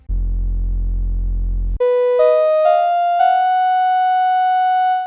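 A deep, steady low sine tone drones for under two seconds, then gives way to higher synthetic tones that step upward and hold.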